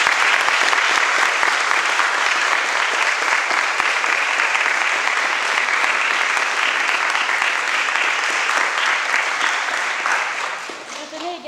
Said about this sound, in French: nous pouvons encore une nouvelle fois applaudir les candidats pour ce résultat